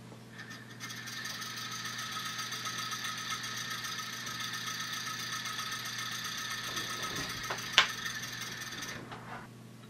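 A homemade spark motor runs steadily and alone, giving a continuous mechanical whir with a fine buzzing hum, one brief sharp snap near the end, then the sound winds down.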